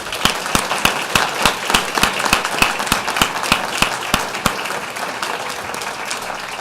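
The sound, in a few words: audience applause for a school choir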